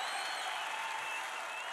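Large rally crowd in Iowa cheering and applauding, a steady dense roar of clapping and voices held at constant loudness throughout, fairly distant and without a break.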